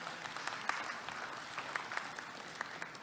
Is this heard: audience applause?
yes